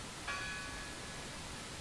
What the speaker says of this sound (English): Keep ringing the bell.